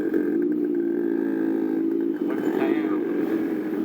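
A rare, fully stock motorcycle with traction control and riding modes hums with a steady, close engine drone while being ridden through Pune, its tone dipping briefly midway before settling back.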